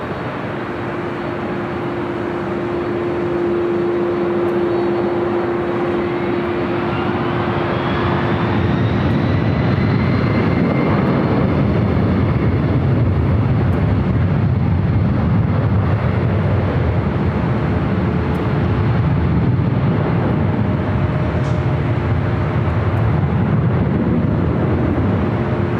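A Delta jet takes off from runway 24 left at LAX, its engine roar building into a loud, steady, broadband rumble that swells and holds for about twenty seconds.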